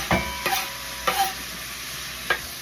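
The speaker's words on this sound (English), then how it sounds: "let's throw in our cilantro, peppers, and onion" Cilantro, peppers and onion fry in a pot with a steady hiss, broken by a few spoon scrapes and clanks against the pot's side. No one talks.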